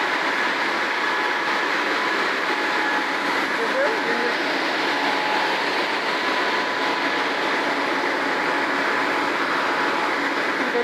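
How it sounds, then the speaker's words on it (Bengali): Industrial knitting machine producing T-shirt fabric, a loud continuous mechanical whir and rattle with a steady hum, filling the factory floor throughout; a voice is faintly present underneath. "এটা হচ্ছে নিটিং মেশিন। এটা দিয়ে গেঞ্জি বানানো হচ্ছে।"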